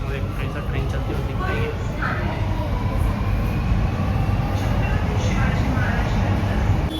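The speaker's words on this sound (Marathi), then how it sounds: "ट्रेन चलती होती" A moving train heading into Mumbai's Chhatrapati Shivaji Maharaj Terminus gives a steady, loud, rumbling rattle of wheels and carriages that carries on without a break.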